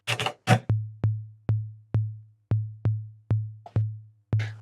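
Deep tom drum hits, the low tom and two panned toms, in an even rhythm, about nine resonant booming strikes with short decays, following a brief burst of noise at the start.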